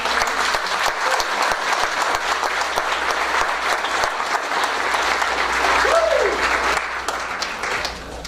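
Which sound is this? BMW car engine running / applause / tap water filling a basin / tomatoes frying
applause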